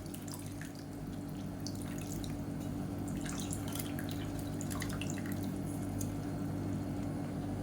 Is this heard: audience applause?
no